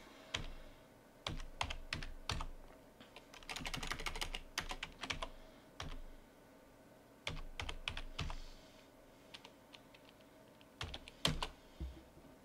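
Someone types on a computer keyboard while working in C++, with quick bursts of clicking keystrokes that pause and restart, including a dense run in the middle, heard alone without talk.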